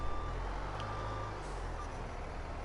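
Reversing beeps from a truck backing up on a sugar beet farm, a steady repeating high-pitched beep over a low diesel engine rumble, fairly quiet and continuous with no talking.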